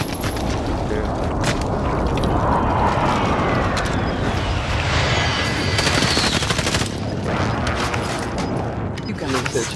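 Dense bursts of video game gunfire crackle almost continuously at close range, loud and rapid, with players talking over the shooting.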